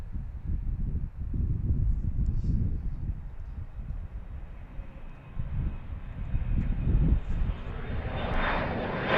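Air Canada airliner departing Philadelphia airport, its engines roaring steadily from a distance with a rumbling low-frequency drone that swells toward the end, with wind buffeting the microphone throughout.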